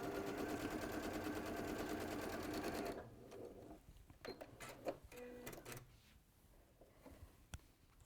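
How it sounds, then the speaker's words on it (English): Sewing machine stitching two fabric pieces together with a quarter-inch seam, a fast steady whirring chatter for about three seconds, then stopping, followed by quieter clicks and handling sounds. "So you're just sewing those two pieces together then, yeah? 1/4 inch seam."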